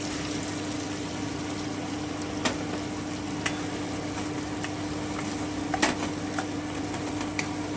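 Soaked potatoes dropped into hot oil with cooked-down spices for an aloo daal with rui fish, giving a steady, even sizzle throughout with a few small sharp crackles and pops, close and alone with no talking.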